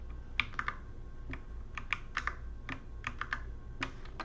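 Computer keyboard typing, a close, irregular run of crisp key clicks with short pauses between bursts, no voices.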